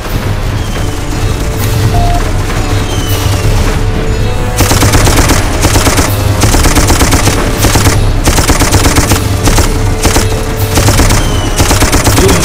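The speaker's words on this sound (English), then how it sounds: "Get your ass on that gun and provide cover fire." A mounted gun lays down cover fire in Darkest of Days as a loud, sustained stream of rapid machine-gun shots that grows denser and keeps hammering close up.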